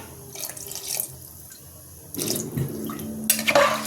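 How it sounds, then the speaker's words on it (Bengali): Water poured into a pot of mutton curry, coming in a few splashy, gurgling bursts, loud and close, with a louder rush near the end and no talking. "আর একটু জল দেবো"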